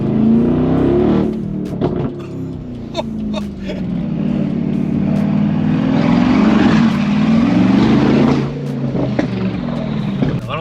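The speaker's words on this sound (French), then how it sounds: "Oh, les retours d'échappement, c'est des explosions." A 920 hp Mercedes G-Class accelerates hard with a loud rising engine roar, broken by sharp exhaust backfire pops scattered through the run, with a voice speaking over it.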